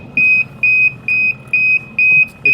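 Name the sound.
liquid laminator low-canister alarm beeping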